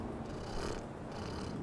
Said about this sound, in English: Purring. Is that a purr?